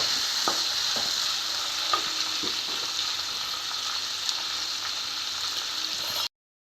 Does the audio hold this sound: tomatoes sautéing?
yes